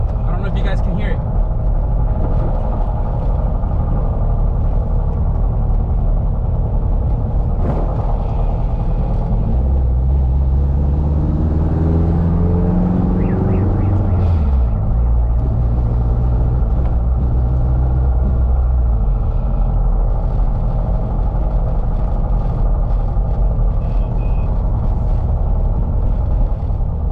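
A K20 turbo EF sedan's drivetrain hums and rumbles steadily while rolling in neutral, with a low whine that sweeps up and down in pitch midway through, close and continuous throughout.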